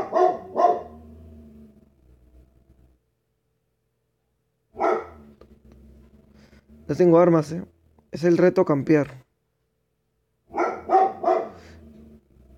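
A dog barks in short, loud bursts of two or three yaps in the video game Free Fire, with pauses and someone talking between the barks.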